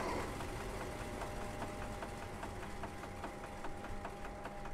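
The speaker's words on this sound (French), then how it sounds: "On va éteindre le moteur." BB 6740 electric-diesel locomotive in Train Simulator Classic, its engine idling with a steady mechanical hum and a regular ticking knock, quiet and continuous with no clear wind-down.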